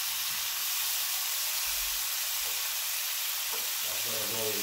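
Jamaican-style seasoning and pepper hitting hot oil for curry conch, giving a steady faint sizzle and hiss with light stirring noises, brief low clunks near the end.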